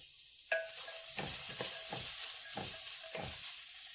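Fajitas sizzle steadily in a Pampered Chef Rockcrok, a close, hissing fry broken by several short scraping stirs of a utensil against the pot.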